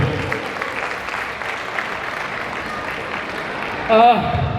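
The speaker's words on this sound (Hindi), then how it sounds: "अब सिर्फ तालियां सुनाई देती हैं जो आप बजाएंगे अभी" Applause rises from an audience at a live poetry event in Navi Mumbai, a steady moderate patter of many hands with a voice briefly cutting in near the end.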